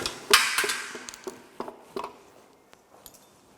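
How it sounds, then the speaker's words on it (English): A plastic hammer knocks on an engine's piston connecting rod assembly to loosen a part, giving a string of irregular, fairly close taps, sharpest at first and growing softer and sparser. "Can you hit up with this plastic hammer over there to remove it?"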